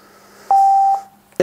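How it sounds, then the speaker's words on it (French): A single steady electronic beep from a Xiaomi Mi Portable Bluetooth Speaker confirming pairing, clean and sustained for about half a second against a quiet background, followed by a brief click. "vous avez entendu le petit bip"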